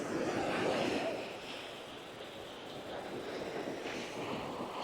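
Surf washing onto Banana Beach in Phuket, a steady broad wash of breaking waves with a swell near the start, mixed with wind buffeting the microphone.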